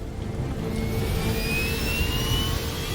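A jet airliner carrying some 65,000 kilograms of passengers and aircraft roars down the runway on its takeoff roll, a steady, fairly distant whine and rumble with a slowly rising pitch.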